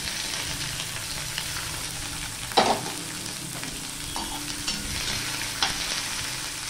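Chopped onion and garlic fry in a pan for a Bengali jackfruit curry, a steady sizzle with occasional stirring scrapes and one sharper clatter partway through, close and continuous with no talk.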